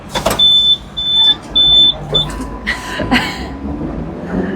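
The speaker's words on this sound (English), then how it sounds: "let's see what it's like to ride on one of Hong Kong's iconic trolleys" A Hong Kong heritage tram in motion, a loud rumbling ride with a steady high whine of the electric motor rising and cutting out several times, then rattling clanks over the tracks.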